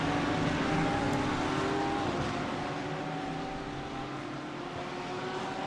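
A GT3 race car in a racing video game accelerates hard down a back straight, its engine note rising steadily and sustained at moderate loudness with no talk over it.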